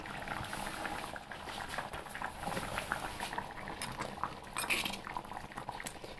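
A covered pot of prawn curry with drumsticks bubbles at a lively boil, producing a continuous soft patter of bursting bubbles and faint lid rattles, close and moderately quiet.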